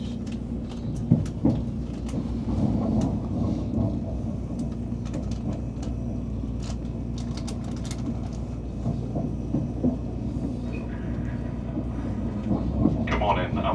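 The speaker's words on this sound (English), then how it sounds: "Good morning and welcome on board this Pennine Express service. This train is the 10:02 service to Redcar Central." TransPennine Express train rolling out from Manchester Airport, a steady low rumble and hum of the carriage interior with occasional clicks and knocks, continuous and moderately loud throughout.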